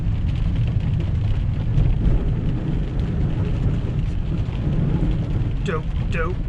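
Heavy rain and rolling thunder in a massive Texas thunderstorm with lightning, heard from inside a truck while driving, a steady loud wash of downpour with low rumbles throughout and a few squeaky mechanical chirps near the end.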